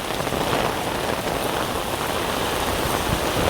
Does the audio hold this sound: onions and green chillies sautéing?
no